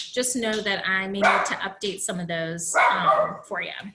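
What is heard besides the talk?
dog barking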